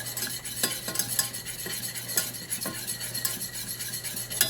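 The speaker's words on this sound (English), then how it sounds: "it is extremely boring to stand here and whisk it all that time" A whisk scrapes and clinks steadily against a metal pot while roux cooks, with quick rhythmic strokes close by over a low constant hum and no talking.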